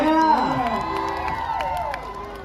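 A concert crowd at an outdoor touring show in Sisaket province cheers and whoops over sustained musical tones, with light clapping mixed into the broad roar.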